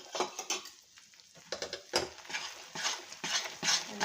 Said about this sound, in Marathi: आणि आता चांगलं हलवत राहायचं.